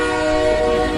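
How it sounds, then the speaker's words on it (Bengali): A train pulling slowly out of a station, a steady loud rumble with sustained tonal horn-like lines, alone for about a second. "ট্রেনটা স্টেশন ছেড়ে একটু একটু করে এগোতে শুরু করেছে"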